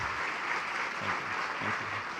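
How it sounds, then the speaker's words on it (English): Audience applause at a national scientists' round table conference, a soft, even patter of many hands clapping at moderate distance for the whole stretch. "Just give a round of applause to him also."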